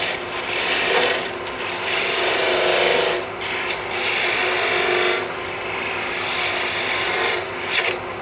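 A skew chisel cuts wood on a lathe, making a continuous loud rasping scrape that swells and eases as the tool is pushed in and drawn back, with a short sharp burst near the end.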